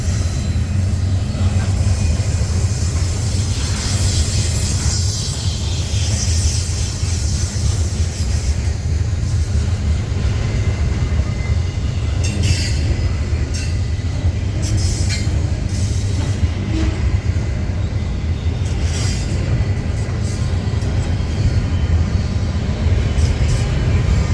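An intermodal freight train rolls past at a rail yard in Rochelle, its heavy, steady rumble of wagons and wheels loud and close throughout, with faint wheel squeals and clicks over the track and no talk.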